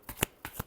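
Tarot cards being shuffled: a quick run of three or four crisp, close papery snaps lasting under a second.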